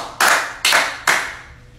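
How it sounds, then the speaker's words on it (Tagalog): Three sharp, evenly spaced group claps in unison, each a crisp loud burst that decays quickly, with quiet between them and no talking. "Di ba sabi ko tatlong palakpak lang?"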